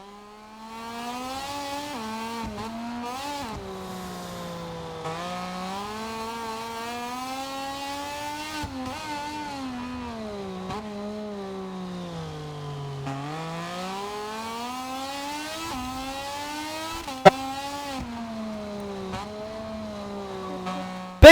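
A Moto2 racing motorcycle engine in MotoGP 25 winds up through the gears, its high tonal whine rising, dropping with each shift and climbing again over a long stretch of steady, close-up acceleration.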